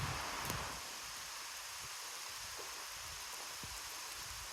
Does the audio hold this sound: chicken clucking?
no